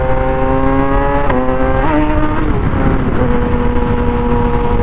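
A motorcycle engine revs hard through a quick shift that only half completes, its loud, steady tone stepping down in pitch several times as the gears change and the revs drop and climb again.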